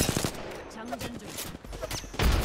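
Rapid gunfire aimed at the player in the game Apex Legends crackles in quick bursts of sharp, close shots over a couple of seconds, with a voice speaking alongside.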